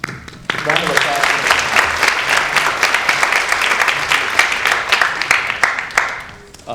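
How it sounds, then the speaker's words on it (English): Sustained applause from the audience at a National Honor Society induction ceremony, dense clapping that rises quickly and carries on steadily before tapering toward the end, with faint talk mixed in. "Round of applause."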